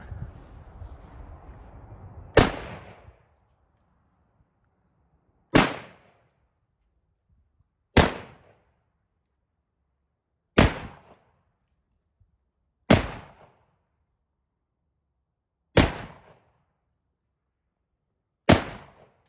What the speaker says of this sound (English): This is a Galil Ace chambered in 308.